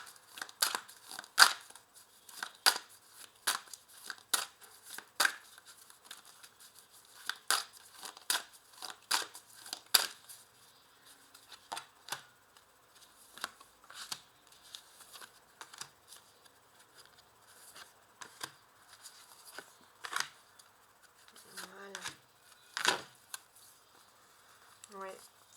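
Oracle cards being shuffled by hand, a quiet, close run of crisp slapping and riffling flicks in uneven bursts, with occasional faint speech.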